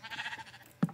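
A sheep in Minecraft bleats briefly and nearby, a wavering cry that ends with a short low thump.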